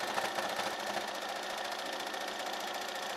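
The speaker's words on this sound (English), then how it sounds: "fold down this edge, and then sew across this with a regular stitch" A sewing machine running a regular stitch across a folded fabric edge on a milkmaid top, a quiet, steady, fast whir throughout with no voice over it.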